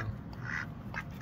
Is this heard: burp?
no